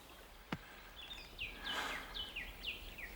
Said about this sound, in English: Bird scolding.